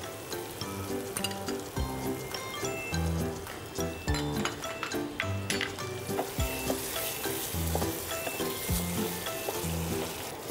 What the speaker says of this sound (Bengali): মশলাটা তো কিছুক্ষণ একটু কষবে। হ্যাঁ কষাতে হবে।